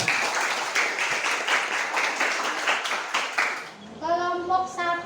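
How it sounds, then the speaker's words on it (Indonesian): Classroom applause for students after an arts performance: steady group clapping for several seconds, fading into a child's or teacher's voice near the end. "Oke, tepuk tangan dulu untuk kalian."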